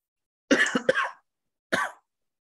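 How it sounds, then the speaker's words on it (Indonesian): A short burst of two or three close coughs, a brief pause, then one more single cough, with no talking. "Ini saya lagi agak batuk nih, agak batuk."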